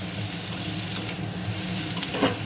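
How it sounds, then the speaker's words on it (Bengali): Cumin, coriander, chili and turmeric powders are sautéed in a pan for ghugni. A continuous close sizzle runs under scraping stirs, with a few light clinks of a utensil toward the end. "জিরে গুঁড়ো ধনে গুঁড়ো লঙ্কার গুঁড়ো হলুদ গুঁড়ো দিলাম দিয়ে এবার ভালো করে কষাবো"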